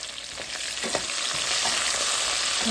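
Garlic, mustard seeds and green chillies frying for a ghee sambar tempering, a loud, steady crackling sizzle close by with faint spatters and pops.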